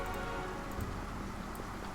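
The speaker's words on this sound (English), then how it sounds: "The rain is slowing us down quite a bit, unfortunately." Rain falls steadily in the Pathfinder Kingmaker video game, a soft continuous patter with a few sharper drop ticks, fairly quiet and unbroken by speech.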